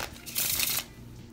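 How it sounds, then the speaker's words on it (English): A deck of playing cards is riffled once in a short, crisp burst, close and fairly quiet, with no voices over it. "if you know what you're doing, you can even shuffle the cards"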